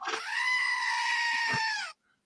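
A goat screams in one long, loud, strained bleat lasting nearly two seconds, then stops abruptly into silence.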